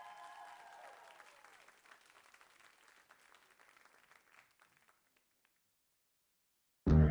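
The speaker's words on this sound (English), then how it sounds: "Let's give a big, big round of applause to Charlie Maskell" An audience claps after a jive dance performance at a charity dance event, the applause fading out gradually over several seconds into near silence before a sudden loud sound cuts in at the end.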